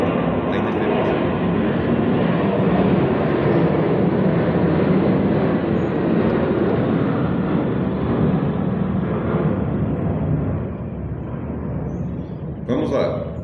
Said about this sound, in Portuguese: Está vendo o avião?